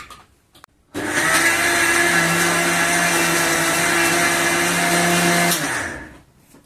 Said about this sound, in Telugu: ఇది పానాసోనిక్ మిక్సర్ గ్రైండర్ కొత్తగా వచ్చింది ఇప్పుడు.